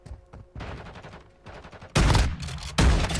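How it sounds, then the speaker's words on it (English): Shotgun blasts in the Warzone video game, two heavy booming shots close together near the end, following a stretch of quieter crackling gunfire. "Ah, I got somebody with the shotgun."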